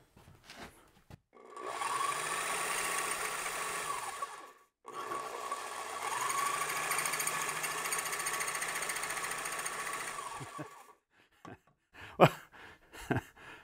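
An old die filer runs in two long stretches of steady mechanical buzzing and rattling, each cut off by a brief pause, then some loose clanks and handling knocks once it stops.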